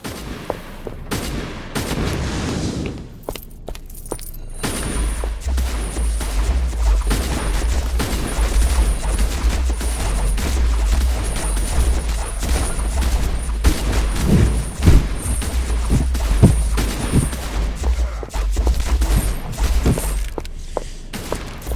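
Gunfire in the video game Van Hel, a steady stream of booming shots and heavy thuds over a low rumble, loud and continuous with no voices.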